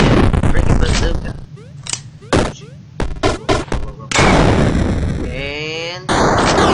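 Bazooka blasts and gunfire in the Superfighters game, a burst of sharp explosive booms and rapid shots, loud and close, alternating with short quiet gaps and excited voices talking over it.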